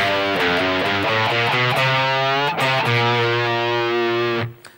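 A distorted electric guitar plays a slightly varied phrase from a song. Quick repeated picked notes, loud and up close, lead into held ringing notes, and the sound fades out at the end.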